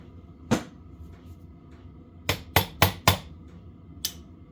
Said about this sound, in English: I took a hammer and kind of tapped on it, because you might have to tap it in to get a real good bite, to get it to seat all the way